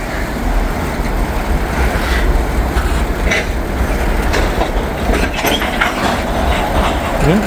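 Heavy freight train of loaded grain cars starting to roll after a stop, a loud steady rumble of wheels with clanking and faint squeals close by.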